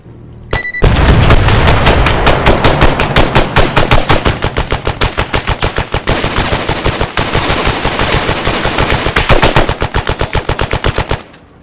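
Sustained automatic gunfire unloads on creatures in a game, a long, loud, rapid stream of shots rattling nearly nonstop for about ten seconds, up close with no talk over it.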